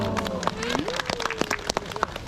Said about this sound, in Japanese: 本当にパラパラの拍手ありがとうございます